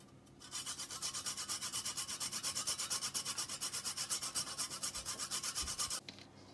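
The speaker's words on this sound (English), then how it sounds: "Next, we'll grate our nutmeg in here." Whole nutmeg scraped on a grater in rapid, even strokes, a loud close rasp repeating about eight times a second for roughly five and a half seconds before stopping.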